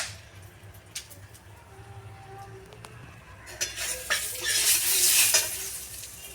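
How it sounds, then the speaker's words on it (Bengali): Whole garam masala, cloves, cinnamon and cardamom, goes into hot butter in a pan, with scraping stirs and clinks before a loud sizzle rises and swells in the second half. "বাটারটা গরম হয়ে গেছে, এবার দিয়ে দেবো গোটা গরম মশলা আর থেতো করা।"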